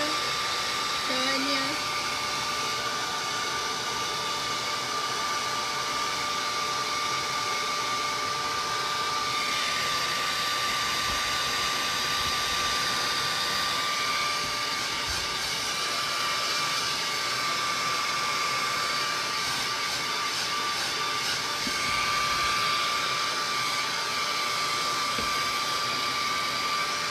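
A hair dryer runs steadily to dry textured paper, a loud, continuous, close whooshing hum across the whole stretch, with brief faint voices underneath.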